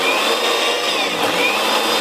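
An electric mixer grinder whirs at a constant high pitch as it grinds soaked lentils for fritters, running alone for two seconds before cutting off abruptly.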